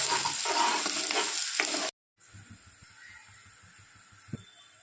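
Onions and green chillies sizzle in hot oil with a bay leaf as a stuffed brinjal masala curry begins. The loud frying hiss is heard up close, then cuts out briefly, and a quieter crackle with faint stirring returns.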